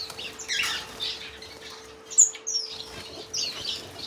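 Pet finches, including Bourke's parakeets and star finches, flap their wings in short fluttering bursts and give high chirps and squawks as they are grabbed, close and fairly loud.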